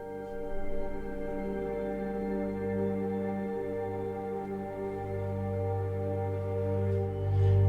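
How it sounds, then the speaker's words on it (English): Sustained layered synth pad built from five blended sounds in the Ethereal Earth instrument, a soft, evolving chord with steady harmonic drones that swells slightly toward the end, heard alone. "I've made my pad sound by layering 5 different sounds I've found in Ethereal Earth"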